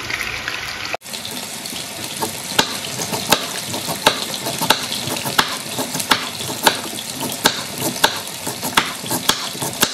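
Meat frying for pilaf in a multicooker, giving a steady sizzle with regular sharp clicks of stirring over it; it runs alone with no talking.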